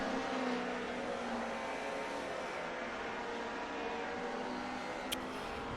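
Classic DTM race cars lapping Brands Hatch in a racing video game, including a BMW and an Alfa, with a steady droning engine whine holding at a loud, constant level.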